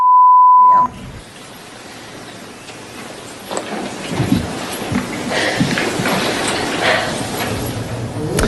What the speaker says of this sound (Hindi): हालांकि हमें बीप करना पड़ा क्योंकि वो गालियां दे रही थी।